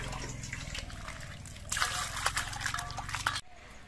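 Water runs and splashes while bottle gourd peels are washed by hand, a close trickling and sloshing that grows louder midway and cuts off abruptly near the end.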